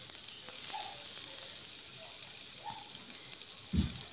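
Chopped onion frying in hot oil in a pan, a soft, steady sizzle at low level with a faint clink near the end.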